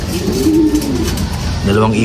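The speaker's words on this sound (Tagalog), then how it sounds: "meron tayong dalawang ibon dito" Pigeons coo in low, throaty rolling calls close by, with a person's voice and background noise mixed in.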